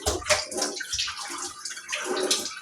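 Water runs from a household faucet that has not yet been replaced, a steady broadband rush with splashing bursts, close and fairly loud, alone without talk.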